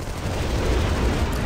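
Dense, continuous rumbling gunfire from an assault rifle in the video game Armed & Dangerous, like sustained automatic bursts, loud and steady with no voices.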